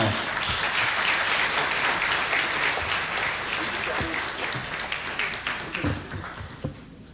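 An audience at a closing ceremony applauding a prize winner, sustained loud clapping from many hands that gradually thins toward the end, with a voice speaking over it.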